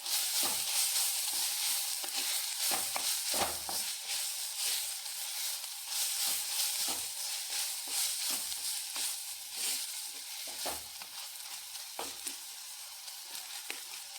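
Taro stem stir-fry being stirred in a pan, a continuous gentle sizzle with occasional scraping strokes, moderately quiet and close, without talk.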